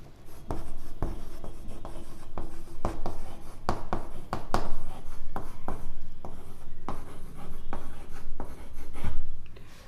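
Chalk or marker strokes on a classroom board during a Class 10 maths lesson, a steady series of scratchy taps and rubbing strokes filling the whole stretch, close and fairly loud with no talk.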